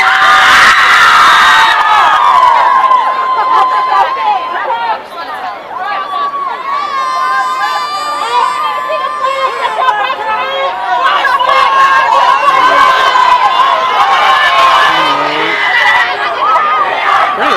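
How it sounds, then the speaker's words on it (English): Lively crowd at a student climate strike in Portland, Oregon, loud young voices cheering, shouting and chattering close by in a continuous energetic mass, with individual shouts standing out. "Lively crowd."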